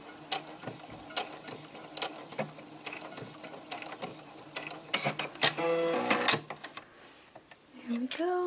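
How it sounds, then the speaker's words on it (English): Sewing machine running in several short stitching bursts while hemming the edge of a store-bought bandana into a smaller dog collar square, steady mechanical chatter close up with brief pauses and a quiet voice speaking between runs. "all we have to do is worry about sewing this end together to make a smaller square"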